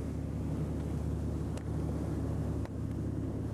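Mainship motor boat underway at good speed with a strong following wind, a steady loud low engine and hull rumble mixed with wind buffeting on the microphone, continuous and without talk.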